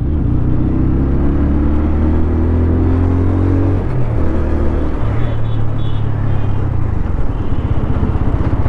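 A TVS Apache RTR 160 4V motorcycle is ridden on city roads, its engine a loud, steady close rumble with pitch shifts as gears change and revs rise and fall, continuous throughout.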